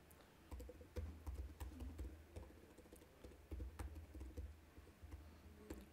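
Rapid, irregular keystrokes on a computer keyboard while running PostgreSQL commands, a steady close clatter of clicks with brief pauses and no talk.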